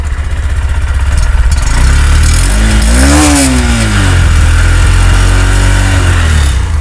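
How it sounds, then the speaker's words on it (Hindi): Honda SP 125 BS6 125cc motorcycle engine starting, then settling into a steady, light exhaust note with a brief rev in the middle, loud and close with no talk over it. "अब मैं एक बार आपको बाइक स्टार्ट करके एग्जॉस्ट नोट सुना देता हूँ।"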